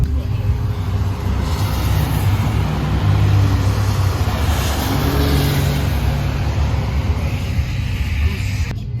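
Steady road traffic in Escondido, with cars and engines rumbling past continuously at close range, a constant loud drone without pauses.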